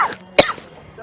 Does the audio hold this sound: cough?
yes